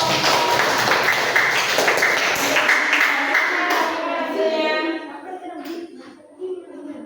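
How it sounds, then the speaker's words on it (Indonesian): Children clapping together in a classroom, a burst of rapid claps that fades within a few seconds into quieter scattered taps and voices. "Tepuk tangan dulu untuk"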